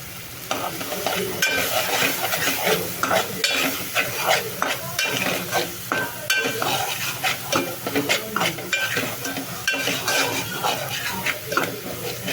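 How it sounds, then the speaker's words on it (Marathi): Masala with chilli roasting in a pan and stirred continuously: steady, close sizzling under repeated scraping strokes of a spoon against the pan's metal, with no talking. "याची कड़क ना बस मसाला भाजून घेऊया"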